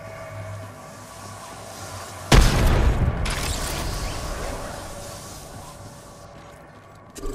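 A frag grenade goes off in Apex Legends: one sudden heavy blast after a quiet stretch, then a rumbling roar that slowly fades, with a small knock at the very end.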